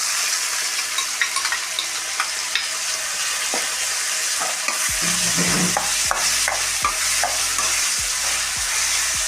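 Chopped cucumber frying with onions and tomato in a pan for a cucumber curry, a steady loud sizzle throughout, with a spoon stirring and scraping the pan in repeated strokes during the second half.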